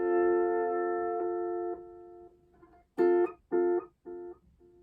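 A lap steel guitar plays a slow volume swell, a sustained tone that fades and is then echoed by a series of delay repeats that grow fainter and more spaced out.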